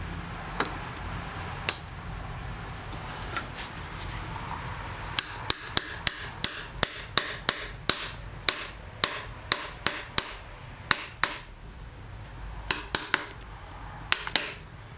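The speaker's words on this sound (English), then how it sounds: "Notice I am very lightly tapping." Light hammer taps on an aluminum plate while a Wheel Horse 6-speed transmission is reassembled: a few scattered taps, then a steady run of quick, crisp metallic strikes close by, with no talking.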